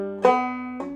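A clawhammer banjo plays one bar of the jig The Hag With The Money, two bright plucked attacks with ringing tones between them, close and solo.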